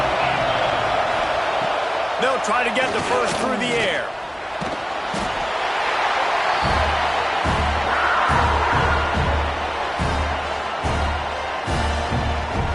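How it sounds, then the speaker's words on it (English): A big football stadium crowd in Happy Valley roars on third down against the Mountaineers, a broad swelling rumble of noise under a commentator's voice. "Here comes the noise from this big crowd in Happy Valley on 3rd down."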